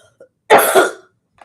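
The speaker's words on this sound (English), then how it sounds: "I've been trying not to cough for an hour." A man lets out a single harsh cough blending into throat clearing, loud and close, with a short quiet gap before and after.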